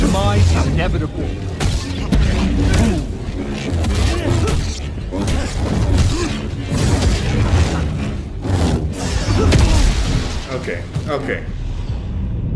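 Repeated booming explosions in the Star Wars Jedi: Survivor video game, heavy thuds and blasts scattered across the scene amid game effects, with a person talking over much of it.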